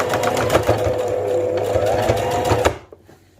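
A sewing machine stitches lace onto the hem edge of a capri leg, a steady close whirring run of rapid stitching lasting almost three seconds before stopping abruptly.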